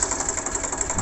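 A tractor engine idles with a steady low rumble and faint rhythmic knocking, close by, in one brief continuous stretch with no voices.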